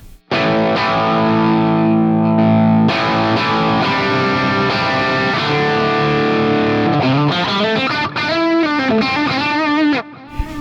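A sustained electric guitar chord through a T-Rex Hobo Drive overdrive pedal, boost kicked in, rings out loud and thick, then gives way to wavering, bent overdriven notes.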